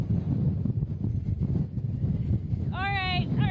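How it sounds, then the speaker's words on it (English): Strong wind gusts roaring across an exposed overlook at Crown Point in the Columbia River Gorge during a high wind warning, a constant loud rumble buffeting the microphone, with a brief whistling tone near the end. "wind gusts over 80 miles per hour today"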